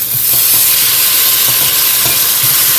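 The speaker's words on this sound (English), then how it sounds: "Give that a good stir and let that also fry in the oil with the onions" Finely chopped ginger and garlic fry with onions in hot oil for chicken pulao, a loud, dense, continuous sizzle with a few soft stirring knocks beneath it.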